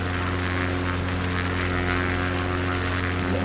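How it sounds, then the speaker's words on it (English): A small propeller bush plane's engine in a flight video game drones steadily and loudly, slightly over-revving, a constant buzzing hum with no speech over it. "Oh, I'm over revving the engine a little bit."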